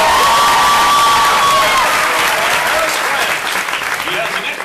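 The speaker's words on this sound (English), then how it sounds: "Clap your hands for adventurer number two." Audience applause fills a convention dating game, a dense, steady clapping from a crowd that stays loud throughout, with some cheering mixed in.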